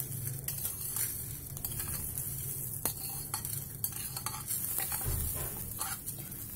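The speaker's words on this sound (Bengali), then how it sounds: "চুলার জাল লোতে রেখে চালটা লাল করে ভেজে নিব।" Salted rice grains for puffed rice are stirred and dry-roasted in a pot over low heat, with soft continuous rustling, faint crackle and scattered scraping taps of a utensil, fairly quiet.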